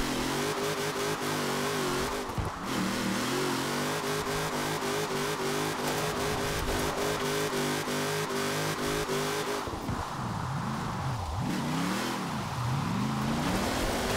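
Chris Forsberg's Formula Drift car in Forza Horizon 4 holds its engine on the rev limiter in sixth gear, a loud, continuous buzzing drone with rapid stuttering cut-outs, then wavering pitch swings as the revs rise and fall.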